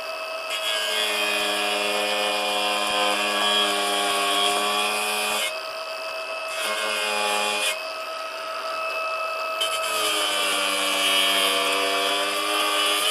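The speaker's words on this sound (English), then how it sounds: "Grind the bottom a little bit." A power grinder grinds the bottom of a metal piece, a loud, steady high-pitched whine with bright harmonics, cut by short pauses and restarts.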